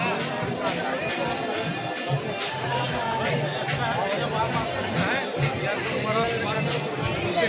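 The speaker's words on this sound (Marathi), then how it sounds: "गर्दी प्रचंड गर्दी आहे." Huge crowd at Kashi Vishvanath Temple in Varanasi, a constant hubbub of many overlapping voices nearby with scattered sharp clacks and movement noise throughout.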